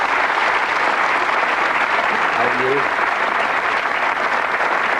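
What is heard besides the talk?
audience applause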